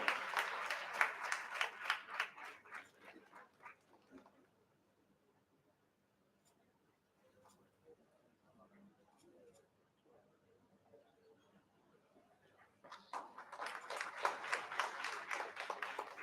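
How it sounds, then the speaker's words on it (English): A crowd at a cyber safety and national security prize ceremony applauds for a few seconds, fading into a quiet stretch with faint sounds, then clapping swells up again near the end. "Please put a big round of applause for them"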